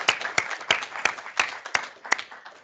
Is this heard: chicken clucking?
no